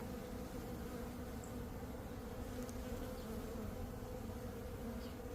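Honey bees drone steadily around an open hive during a spring hive inspection, a continuous low buzz that fills the whole stretch without breaks and with no voices over it.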